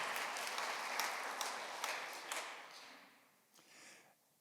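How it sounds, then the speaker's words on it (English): A congregation at a worship service applauds, the clapping fairly faint and distant, thinning out and fading toward the end with a few scattered last claps. "You can applaud them again"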